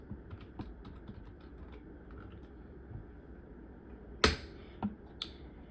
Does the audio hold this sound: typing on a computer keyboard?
yes